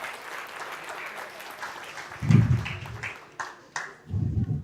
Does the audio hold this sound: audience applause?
yes